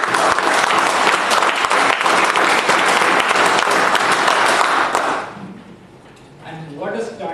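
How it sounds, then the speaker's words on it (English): Applause from the audience at a Toastmasters club meeting, a dense and steady clapping for about five seconds that then drops off sharply, followed by quieter room sound and a voice beginning to speak. "Ladies and gentlemen, can we give him a big round of applause?"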